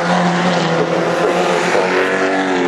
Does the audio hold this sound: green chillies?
no